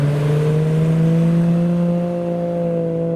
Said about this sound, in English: Oh, there's some drift cars doing some donuts around each other.